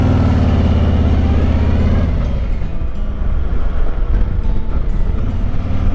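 Harley-Davidson Icon Revival motorcycle on its first ride, a loud low engine rumble that shifts pitch as it pulls away, mixed with rushing wind noise.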